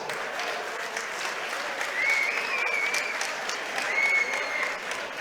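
A crowd at a boxing match in Birmingham claps and cheers steadily throughout, with a couple of whistles rising over the applause.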